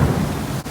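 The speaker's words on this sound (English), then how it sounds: "It literally was just hailing and it just like thundered." Thunder rumbles loud and close through a hailstorm, a broad low roll filling the whole moment with no voices over it.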